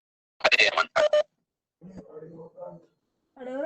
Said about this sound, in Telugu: ఫోన్ చేస్తున్నట్టున్నారు.